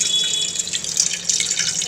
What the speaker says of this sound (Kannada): ಸೊ ಇವಾಗ ನೆಕ್ಸ್ಟ್ ಪ್ರೋಸೆಸ್ ನೀರು ಬಸ್ತಿಬಿಡೋಣ.